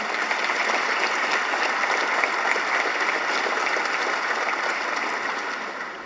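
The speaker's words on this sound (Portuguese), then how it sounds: "para quem peço uma salva de palmas em jeito de reconhecimento" Sustained applause from an audience after a call for recognition of national health service workers during a presidential speech, a dense even clatter of many hands that holds steady and then begins to fade near the end.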